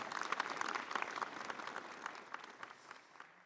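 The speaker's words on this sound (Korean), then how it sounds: "좋은 말씀해 주신 윤진숙 해양수산부 장관님께 다시 한번 큰 박수 부탁드리겠습니다." A crowd applauding at the KIMA Week 2013 opening ceremony in Busan, dense steady clapping that gradually thins and fades toward the end.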